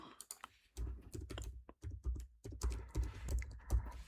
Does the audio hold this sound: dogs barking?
no